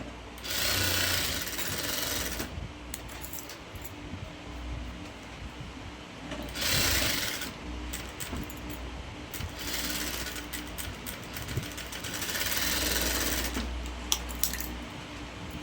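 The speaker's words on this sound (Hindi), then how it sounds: "इसको उसके ऊपर ही सिलाई करते जाना है" A sewing machine stitches frock fabric along a marked line in bursts, its hum surging and easing several times with faint clicks and rattles between runs.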